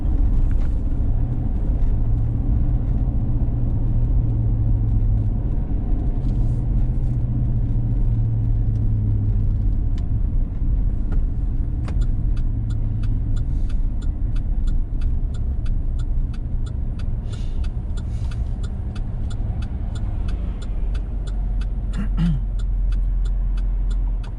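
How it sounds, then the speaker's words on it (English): Extended cab pickup truck with an 8-foot bed towing a 40-foot toy hauler, driving on a road near Fort Wilderness, a steady loud engine and road rumble with occasional clicks and rattles. "a extended cab pickup truck with a 8-foot bed and a 40 feet worth of toy hauler behind me"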